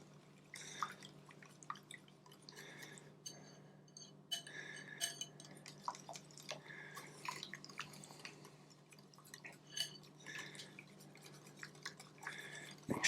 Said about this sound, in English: I'm going to go ahead and I'm going to whisk that together